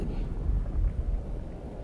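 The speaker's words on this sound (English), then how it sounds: "What was that explosion?" A deep explosion rumble from the video game God of War Ragnarök rolls low and heavy, a muffled, faint boom that fades over about two seconds with no voices.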